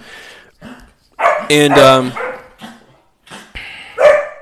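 A puppy barks and yips in several sharp, loud bursts, with one longer whining bark in the middle, close by while a person speaks between and around the barks.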